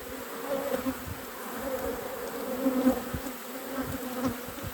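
Honey bees swarm around a beekeeper working an open, pollen-bound hive in a busy apiary, a dense continuous buzz close by with individual bees droning past, steady and unbroken with no talk.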